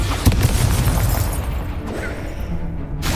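A Confringo spell explosion in the Hogwarts Legacy video game, a loud booming blast with crackling burst that rumbles on before cutting off near the end.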